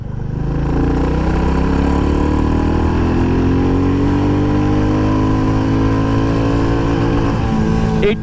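Royal Enfield Classic 350 motorcycle in Halcyon Green accelerating through second gear during a top-speed test, engine pitch climbing steadily and loud throughout with no talk.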